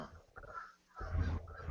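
A man imitates crows cawing with his voice, giving a couple of short rough caw-like calls close to the microphone with no other sounds around them.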